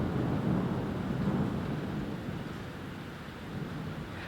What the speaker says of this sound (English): I don't know if you heard that, that's thunder.